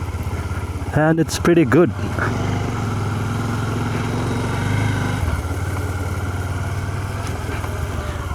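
Bajaj Dominar 400 motorcycle engine running with a steady low drone while the rider sits in the saddle, close and continuous, with a short stretch of talk near the start.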